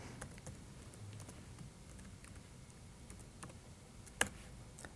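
A computer keyboard being typed on while a password is entered, quick light key clicks in loose bursts, close and quiet, with one sharper louder keystroke near the end.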